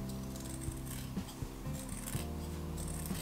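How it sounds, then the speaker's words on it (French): Scissors snipping a few millimetres of faux leather at the corners of a large toiletry bag being sewn, soft repeated rubbing cuts close by, fairly quiet, with a low background hum and no talk. "Je vais couper quelques millimètres"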